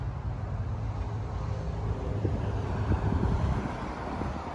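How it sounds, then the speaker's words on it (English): Steady wind buffets the microphone outdoors by a truck parking area, a continuous low rumbling roar with irregular gusty thumps, no voices over it. "I apologize for the wind here."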